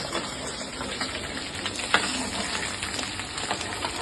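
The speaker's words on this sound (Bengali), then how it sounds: "ঘিয়ের ভিতরে এই ডিমগুলোকে দিয়েছি, দিয়ে এই দেখো লাল লাল করে এটাকে ভেজে আমি তুলে রাখবো।" Eggs frying in hot ghee in a pan, a close, steady sizzle and crackle with small popping spikes throughout, without talk.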